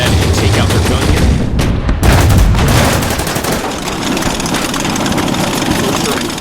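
Gunfire in the Order of Battle: Blitzkrieg World War II strategy game, dense loud crackling shots over a rumbling engine-like drone, with a voice talking over it throughout.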